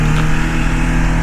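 A Kawasaki Ninja 400 motorcycle engine running loud and close, giving a steady buzzing drone with a strong low hum and no other sounds.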